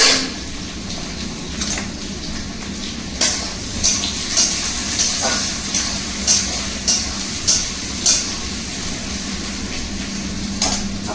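Onions sizzling in a pan for chicken curry, a steady frying hiss with repeated sharp clinks of a spoon or spatula against the pan at close range.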